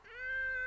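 A single drawn-out cat meow rises and holds clearly, close and alone, lasting under a second.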